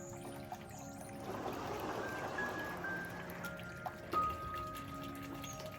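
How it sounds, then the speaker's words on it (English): Soft, steady trickle of flowing water from a small courtyard fountain, a faint continuous splash with a few brief louder drips. "We bought this fountain for our courtyard. The sound of flowing water is so relaxing."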